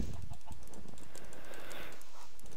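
Rapid clicking of a computer keyboard that is reportedly not working properly, typed during a gaming session, with fairly close, uneven keystrokes over low background noise and no talking.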